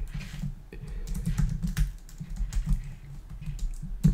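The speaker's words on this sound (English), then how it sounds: "if I'm typing a bit slower today, it's because I kind of dropped some soda on my keyboard" Steady typing on a computer keyboard made sticky by spilled soda, with close, uneven key clatter running continuously and no talk.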